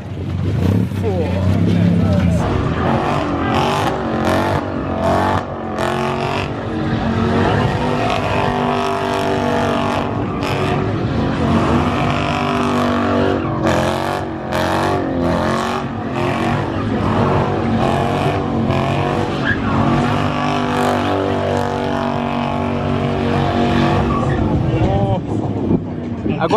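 Cars at a Los Angeles drag strip roar and rumble continuously, loud and near, with engine noise and tyre noise rising and falling as people talk over it.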